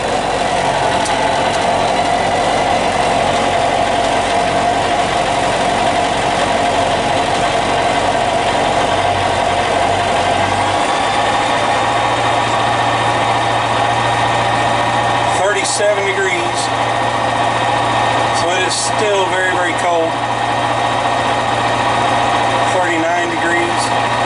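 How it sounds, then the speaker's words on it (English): A Rotax 912ULS aircraft engine runs at idle on a cold day, a steady droning hum with a low tone that shifts partway through. Some brief clicks and knocks sound over it near the end. "Alright, here we are, engine running."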